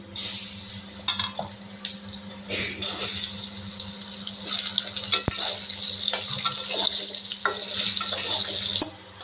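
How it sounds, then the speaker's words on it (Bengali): Potato pieces coated in turmeric fry in oil in a kadai, a continuous sizzle broken by clinks and scrapes of a spatula turning them, close by, with no talking. "হলুদ মাখিয়ে নিলাম, আলুগুলো লাল লাল করে ভেজে নেব।"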